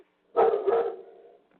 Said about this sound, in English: I'm sorry about my dog.